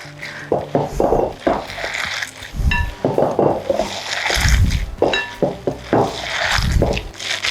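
Gluten-free veggie fritter batter being mixed and mushed by hand in a bowl, with repeated wet squishing and scraping pulses in an irregular rhythm, close and fairly loud.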